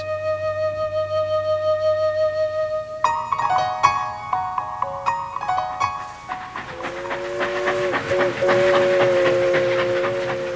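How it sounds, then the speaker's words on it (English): An 1890-style sugarcane train running between Lahaina and Ka'anapali on Maui gives a steady hum and then whistle-like tones, with rhythmic clanking and hissing steam as it moves, fairly loud throughout. "an unusual attraction in Maui is the 1890-style sugarcane train traversing between Lahaina and Ka'anapali"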